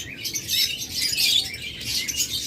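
Lovebirds and other pet birds chirp together inside a bird shop, a dense close chatter of high twittering calls that swells and dips without pause, with no voices.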